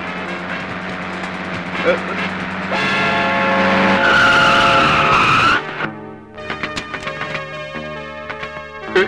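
Tires screech loudly for about three seconds as a car brakes hard to a sudden stop, followed by clattering and voices in a dramatic film scene.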